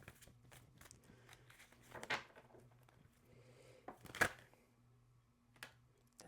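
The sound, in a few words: shuffling tarot cards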